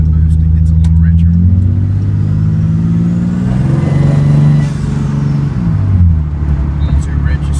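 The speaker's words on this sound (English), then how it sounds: "So just cruising in the Mustang here." Twin-turbo boosted 1965 Mustang engine accelerating while cruising, a loud mid-pitched engine tone that climbs through the gears with shifting harmonics, dips briefly and rises again, heard from inside the car.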